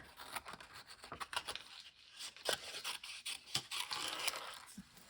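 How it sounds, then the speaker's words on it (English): Close, quiet snips of scissors cutting through paper, a series of short crisp strokes in an uneven rhythm with soft rustling between. "let me grab my scissors here, and I'm going to cut this one off."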